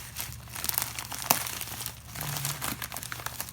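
Stiff cardboard product box for an Adesso trackball mouse being forced open, with close crinkling and crumpling of packaging and a sharp crack partway through, continuous rustling throughout.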